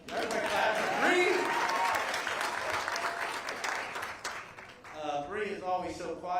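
Applause fills a room at a basketball team's press conference as the audience claps for a player, a dense, loud burst that gradually thins out, with voices emerging near the end as it fades.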